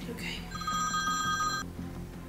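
A phone rings with a call from an unknown number, giving a short electronic ring burst over a low background hum. It sounds fairly quiet, with faint voices nearby.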